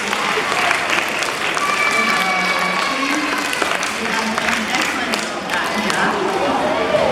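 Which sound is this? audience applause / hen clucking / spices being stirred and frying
audience applause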